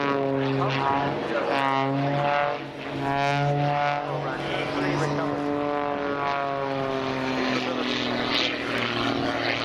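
A Pitts Special S2S aerobatic propeller plane performs at a seaside air show in Portrush, its engine droning steadily with rising and falling pitch as it speeds around the sky, with a commentator talking over it.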